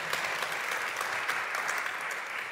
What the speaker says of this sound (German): Ein Applaus ist immer gewünscht.